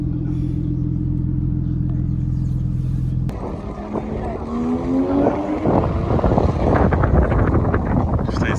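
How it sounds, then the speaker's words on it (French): A Porsche Cayman with a naturally aspirated flat-six drives past on a track, its engine note rising through the revs amid strong wind buffeting, following a steady low idle-like drone at the start. "Il sonne bien son Cayman Flat 6 Atmo là. On n'entend que lui."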